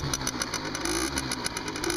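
A Derbi Senda moped engine, warm, idles and sputters steadily throughout, a close, continuous buzzing drone with slight pulsing.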